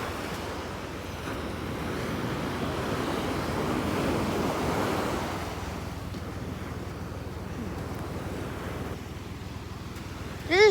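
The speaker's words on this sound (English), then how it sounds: "Wow, there are lots of waves." Surf rolls steadily onto a beach near a jetty and inlet, a continuous broad wash of breaking waves with wind buffeting the microphone, swelling around the middle and easing later, with a brief bump at the very end.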